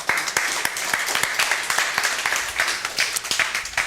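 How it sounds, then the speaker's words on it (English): Meetup audience claps for an incoming speaker, a sustained patter of many hands with distinct sharp claps standing out, steady and fairly close for several seconds. "So give him a round of applause."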